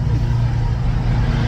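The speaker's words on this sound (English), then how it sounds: "It sounds like an F1 car!" A Ferrari engine at close range, a loud, heavy, continuous roar with a deep low-end drone that holds steady throughout.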